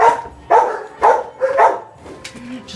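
Beagle barking up close in a series of four loud, sharp barks at a steady pace, followed by a softer whine and yip.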